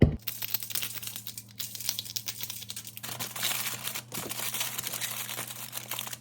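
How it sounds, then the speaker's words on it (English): Aluminium foil crinkles and crumples as salmon fillets are wrapped, a close, quiet run of irregular rustling bursts. "When I'm cooking my salmon, I will just put each one on a piece of foil"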